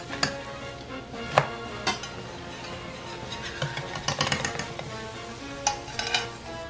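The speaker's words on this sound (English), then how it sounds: "now we're going to take it and put it on our plate" Cooked crepes are lifted from a pan and set on a plate in a home kitchen, heard as scattered light clinks and taps of utensil against pan and plate, quiet and close, with no speech.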